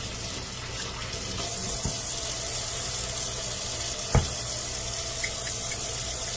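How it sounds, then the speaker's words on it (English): Tap water runs steadily over utensils in a kitchen sink, with a soft hiss and faint splashing. A couple of light clinks come through, and no one talks. "Always wash the utensils."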